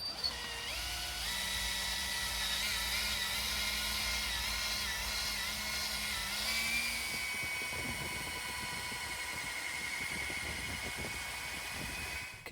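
A power polisher works compound into a cloudy, yellowed Mercedes headlight lens, giving a steady high whine that shifts in pitch for several seconds before turning into a rougher, grinding buff. It is close and continuous, with no talking.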